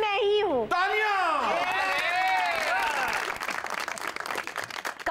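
Studio audience applause on a Pakistani TV comedy talk show, a dense wash of clapping that builds after a brief sung or spoken phrase at the start and carries on steadily, with voices and cheering mixed in.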